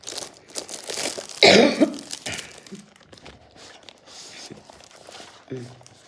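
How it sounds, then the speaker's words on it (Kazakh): A single harsh cough bursts out close by, surrounded by quieter rustling and soft handling noises. "Мына жөтеліп кетер емес"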